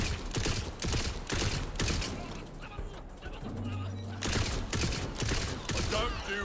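Rapid gunfire in the video game Tiny Tina's Wonderlands, dense bursts of shots over game effects and a low hum, with a voice talking through much of it.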